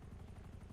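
Helicopter in the video game GTA 5, a steady low rotor drone with a faint, continuous thrum throughout the short stretch, no talk over it.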